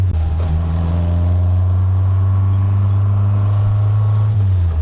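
A Striker Classic car engine drones loudly and steadily with a deep, throaty intake roar through a sausage air filter, the pitch holding nearly level before easing off near the end.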